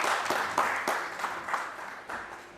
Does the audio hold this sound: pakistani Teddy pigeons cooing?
no